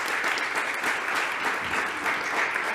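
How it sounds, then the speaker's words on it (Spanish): A church congregation applauds throughout, a dense, even wash of many hands clapping close and steady from start to end. "vamos a darle un fuerte aplauso"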